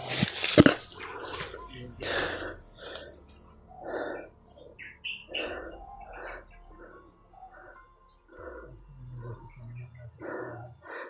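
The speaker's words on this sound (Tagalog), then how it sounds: "Yung mga tahol ng aso" Several dogs bark and yip in short bursts at mid distance, mixed with voices talking over them.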